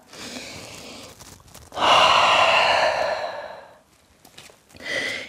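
Deep, slow breaths during a yoga downward-dog pose: a long, loud exhale in the middle, softer breaths before and a shorter one at the end, close and without speech.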